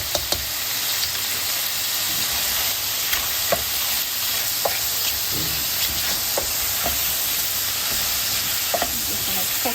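Flour cooks in ghee in a pan, giving a constant sizzling hiss with scattered light ticks and pops from stirring, steady and close for the whole stretch, with no talking.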